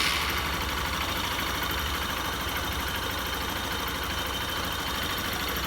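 A Honda Bros 150 motorcycle engine idles steadily just after starting, a continuous close, loud running drone with no gaps and no voices.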